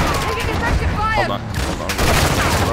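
Video game gunfire rattles in close, loud bursts with a sharp whine passing through, while a player talks over the shooting.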